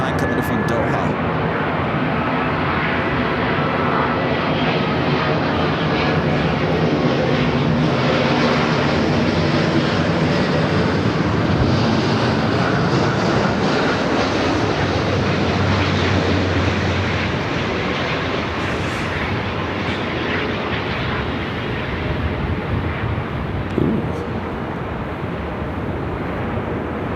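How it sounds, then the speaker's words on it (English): An airliner arriving from Doha on approach to land at LAX gives a long, loud, sustained jet roar close by, with a person talking over it. "Flight 739 coming in from Doha."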